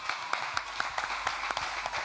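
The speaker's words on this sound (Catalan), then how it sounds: "Un aplaudiment per ell." Audience clapping for a guest at a live show at the Futur Fest, sustained crowd applause with sharp individual claps at moderate level, fairly distant and steady throughout.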